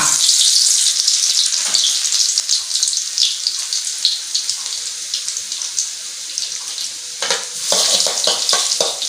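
Food for Thai chicken larb fries in a wok over a gas flame with a loud, continuous sizzle and hiss, broken by occasional scraping stirs, close by and without talk.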